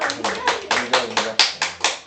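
A classroom group clapping hands in applause for a student during a math lesson, a quick steady run of about nine sharp claps, loud and close.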